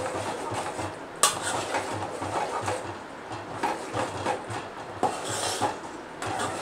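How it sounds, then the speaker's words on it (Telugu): A spoon stirs masala into a pot of cooking curry, making repeated scraping and clinking against the metal pot in an uneven rhythm, with a few sharper knocks close by. "ఇక మసాలా వేసేసుకొని ఒకసారి మొత్తం కలదిప్పుకుందాం"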